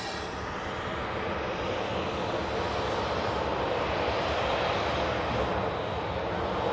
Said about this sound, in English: Off goes the British Airways shuttle service heading down to London Heathrow Airport.